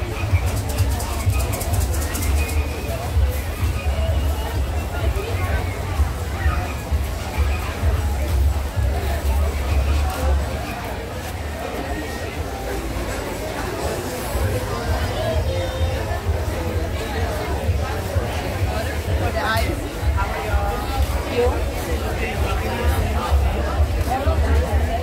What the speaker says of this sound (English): There's a big crowd over here for the flamingos.